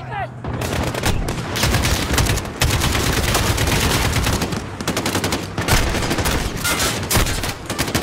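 Call of Duty Modern Warfare gunfire, dense rapid automatic bursts and loud cracks running almost nonstop, close and intense, with voices mixed in.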